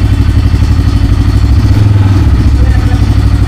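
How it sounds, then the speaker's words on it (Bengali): A brand-new motorcycle engine runs at a steady idle close by, a continuous low throbbing rumble with a faint mechanical clatter and no change in pitch. "নতুন ইঞ্জিন সেটাতে সাউন্ডটা কিন্তু অনেক জোস লাগতেছে"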